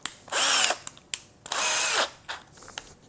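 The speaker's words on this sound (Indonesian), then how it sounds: "Oke, sekarang saya cobain untuk ngebor." A Tekiro 12V cordless hammer drill bores into wood with a 10 mm bit, whining loudly in two long bursts separated by brief clicks and trigger taps, then a softer short run at the end.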